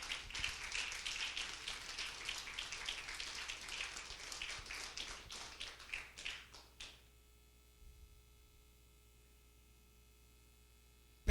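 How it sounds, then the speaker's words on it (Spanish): Church congregation applauding at a Bethel Family Worship service, a dense, lively clapping for about seven seconds that stops abruptly, leaving a faint steady hum. "Le podemos dar al Señor un aplauso"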